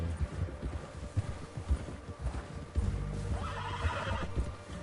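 A horse in Red Dead Redemption 2 whinnies loudly after a run of hoof clops, the neigh rising and trailing off near the end, with no talking.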